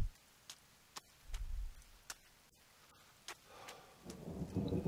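A thunderstorm in the video game The Forest: soft, low rumbles of thunder roll in under steady rain, with scattered sharp ticks and a louder rumbling swell near the end.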